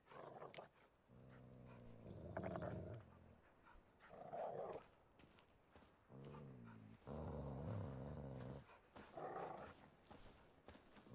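Fighting dogs in The Witcher 3 video game growling and whimpering in several low, drawn-out bursts, close and fairly loud, alternating with short quieter gaps.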